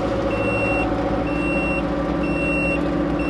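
A truck reversing near a dam rebuilding site, its backup alarm sounding four evenly spaced beeps over a steady, loud engine drone.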